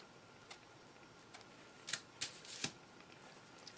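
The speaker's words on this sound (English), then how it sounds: "So we'll just cut this piece out." Scissors cut out a piece of fabric for a puffy heart wall hanging pillow: three quick, faint snips close together near the end, with quiet ticks before them and no talking.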